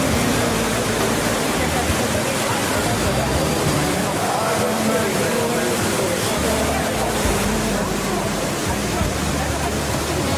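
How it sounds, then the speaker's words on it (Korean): The Datanla waterfall in Vietnam, water pouring in several branching streams, roars as a loud, constant broadband rush filling the whole clip without pause. "폭포를 마주하면 여러 갈래로 쏟아지는 물길에 가슴속까지 시원해진다"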